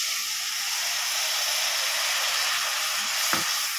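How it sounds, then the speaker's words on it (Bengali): Ground spices sauté in a pan for liver bhuna, and a little water is added. They give a loud, steady hiss of frying that sounds close and continuous, with a brief knock near the end. "ভালো করে মশলাগুলোকে কষিয়ে নেব। অল্প একটু জল দিয়ে দেবো।"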